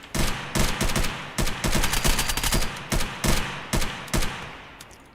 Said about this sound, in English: He almost got me with a pistol.